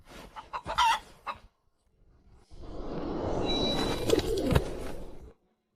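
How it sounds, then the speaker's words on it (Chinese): A hen clucks close by in short, busy bursts over a rustling farmyard background, with a brief quiet pause between the two stretches of sound. "你要是真觉得亏欠，就把这只母鸡带走吧，全当是送客的礼了。"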